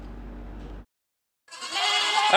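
A milking goat, a Hyderabadi cross kept for sale in Ottapalam, Palakkad, lets out one loud, close bleat after a stretch of low background noise and a brief silence.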